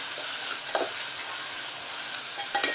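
Tomatoes and onions stirred and frying in a pan for a Maharashtrian pea and potato curry, a steady broadband sizzle with a few soft scraping stirs, close and moderately loud, no talking.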